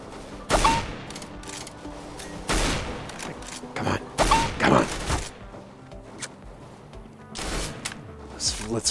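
Bursts of rifle fire in CS:GO, several loud sharp volleys and single shots spread across the clip with a voice talking between them.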